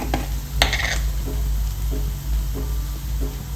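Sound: onions sautéing in a pan

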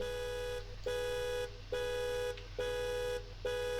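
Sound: car alarm in BeamNG video game

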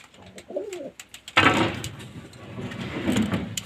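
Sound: pigeons cooing in pigeon house

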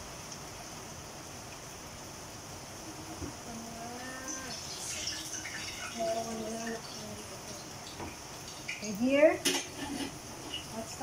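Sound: stir-frying bihon noodles in a pan

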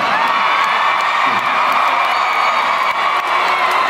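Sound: crowd screaming and cheering at a rap battle

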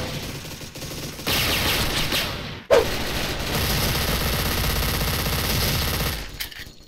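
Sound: dual MP9 submachine gunfire in the video game Special Force

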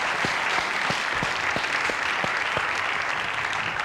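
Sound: applause

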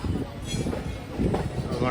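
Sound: Udaya Express double-decker train moving

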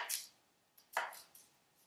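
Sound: 10-inch chef knife cutting the stem off an onion

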